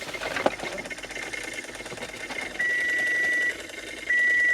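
Heater blower motor of a VW T5 Transporter 1.9 TDI running on speed 4: a low, lumpy mechanical drone with a faint clack early on, then a thin steady whine that steps up in level, cuts back and returns.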